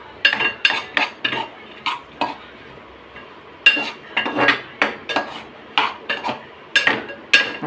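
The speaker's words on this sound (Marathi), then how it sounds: "थोडं आलटी पलटी मारायचे, थोडं पूर्ण मिक्स करून घ्यायचं ग्रेव्ही" Gravy being stirred and mixed in a pan, a utensil scraping and clinking against the metal in quick irregular strokes, close and clear, with a brief pause midway.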